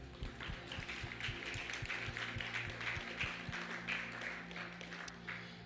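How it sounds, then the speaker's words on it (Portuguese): Church congregation at a Sunday service clapping together for several seconds, a steady wash of applause with a low rhythmic thump running underneath. "Uma salva de palmas para Jesus, amém?"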